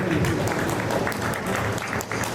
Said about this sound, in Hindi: जोरदार तालियां डॉक्टर प्रकाश कुमार खेमाराम जी गोयल